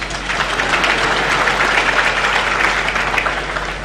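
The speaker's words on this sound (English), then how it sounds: "Let's clap for our technical guys." An audience claps for the technical crew at a motivational talk, giving a loud, dense, continuous wash of applause that holds evenly throughout, with a low hum beneath and no voices.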